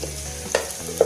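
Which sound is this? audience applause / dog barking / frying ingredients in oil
frying ingredients in oil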